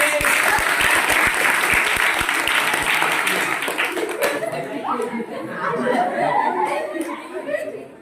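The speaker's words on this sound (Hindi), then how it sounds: "रेडी 1 2 3 के ताली दबा देके" Applause from a magic show audience in India, loud and sustained at first with sharp individual claps, then thinning into crowd chatter and scattered laughter as the clapping fades.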